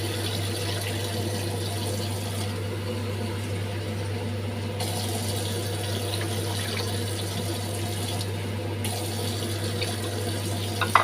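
Water pours steadily into a cooking pan for a Bengali bata fish curry, a continuous rushing stream over a low steady hum, with no talking.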